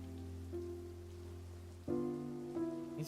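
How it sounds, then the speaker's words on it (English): Rain falling in the video game Genshin Impact, a soft steady patter of drops over tonal game music with sustained notes, fairly quiet throughout and no voices. "It's raining!"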